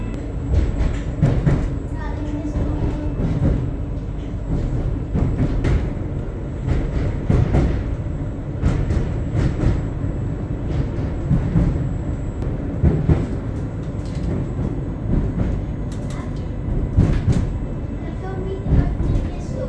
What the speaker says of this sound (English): That's the end of our train trip.